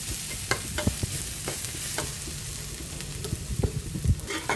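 Shallots or garlic sautéing in oil for a stir-fried cabbage with minced pork, a continuous sizzle broken by repeated sharp scrapes and clacks of stirring.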